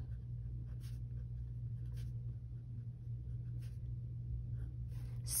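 A pen writing on a paper budget sheet makes faint, intermittent scratches in short bursts over a low steady hum, close and quiet, with no speech.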